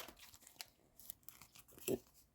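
Crinkling of a small plastic packet during a paper craft with football cards, quiet and close, with a few soft crackles and one sharper rustle near the end.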